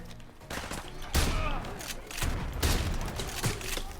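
Shotgun blasts in Call of Duty Modern Warfare 2 Remastered, several sharp booming shots at irregular intervals over a busy background of game noise, fairly quiet overall.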